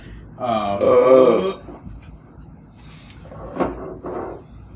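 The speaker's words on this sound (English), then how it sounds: "No, I'm just burping a lot." A loud, drawn-out burp with a throaty tone after drinking West Coast IPA, then a shorter, rougher belch a couple of seconds later, close to the listener.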